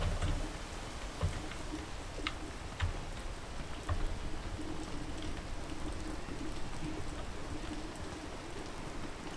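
Steady rain in a video game patters continuously across the whole stretch, a dense even hiss with scattered droplet ticks and no talk over it.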